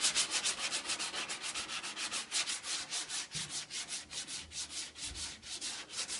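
A long sanding block is pushed back and forth by hand over a truck cab corner repair, producing a steady rhythm of close, quiet rasping strokes, about three to four per second, with no voices.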